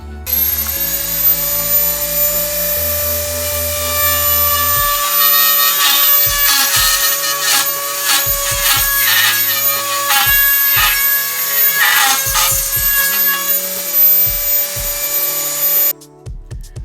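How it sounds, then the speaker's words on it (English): A Dremel rotary tool cutting a chunk out of a project box, a high steady whine broken by repeated bursts and pauses as the bit bites into the plastic, loud and close. "let's go ahead and Dremel out his chunk"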